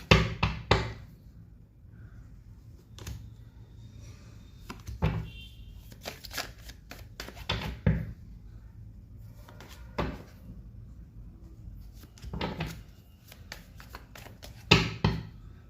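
Tarot cards shuffled and drawn by hand at close range, a series of sharp riffling bursts and soft slaps separated by quiet pauses, loud at the start and end.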